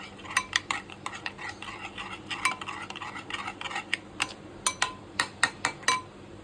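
A spoon stirs a sesame and poppy seed mixture in a pan, making a run of sharp metallic scrapes and clinks in an uneven rhythm over a low background.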